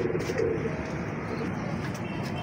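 Teddy pigeons coo in low, soft murmuring phrases, steady and close, with a faint chirp now and then over a constant background hum.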